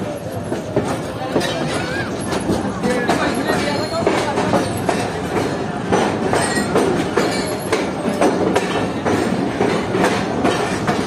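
The Tezgam train rolls through Hyderabad Junction in Pakistan with a loud, continuous rumble and rhythmic clickety-clack of wheels, close and steady throughout.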